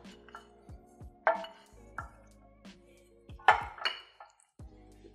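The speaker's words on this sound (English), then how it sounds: "You go to whisk it up, please, with a spoon" A spoon whisks a spice and salt mixture in a bowl, giving light metallic clinks and scrapes against the dish in an irregular rhythm, close and moderately quiet, with a couple of sharper taps standing out.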